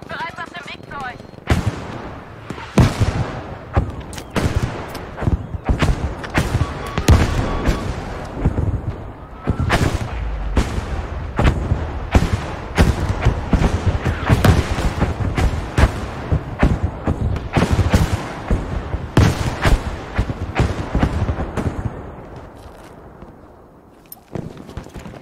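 Artillery barrage in the video game Battlefield V, a dense run of heavy explosions and booming impacts in rapid irregular succession, loud and close, tapering off near the end.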